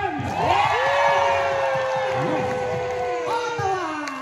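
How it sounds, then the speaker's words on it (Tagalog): A concert crowd cheers, whoops and shouts loudly and continuously, voices rising and overlapping in a dense roar from near and far. "palakpakan na may kasamang sigawan"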